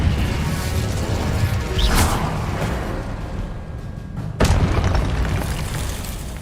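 An Incendio fire spell bursts in the Hogwarts Legacy video game: a dense roaring whoosh with two sharp booming impacts over a steady rumbling backdrop, loud and close.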